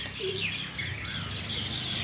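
Birds chirp and tweet in quick, overlapping calls on a cloudy, overcast morning against a soft outdoor background hum, fairly close and continuous.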